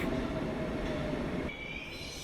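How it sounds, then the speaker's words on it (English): A metro train moving in the Metro Simulator 2019 video game: a steady rolling rumble with a faint wheel whine, close and continuous, which eases off near the end. "Now the train's moving."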